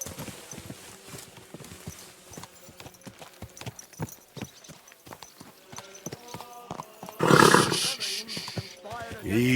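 Horse hooves clip-clopping at a steady pace while riding out in Kingdom Come Deliverance 2, repeated close hoofbeats over low ambience, ending in a loud roaring burst and a neigh.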